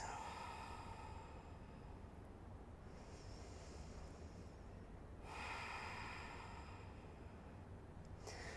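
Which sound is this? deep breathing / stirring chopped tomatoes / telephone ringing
deep breathing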